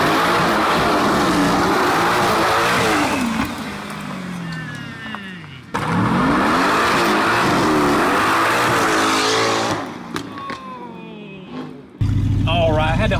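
A wrecked and rebuilt Mercedes AMG GTS revs hard and slides its tires on a first test drive. A loud, roaring engine sweeps up and down in pitch across two long runs, with tire noise mixed in, then cuts off briefly before a final burst.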